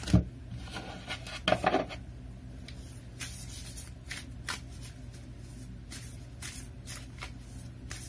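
Oracle cards being shuffled by hand, a steady papery riffle and rub with a few sharper snaps near the start, close and fairly quiet, no talking.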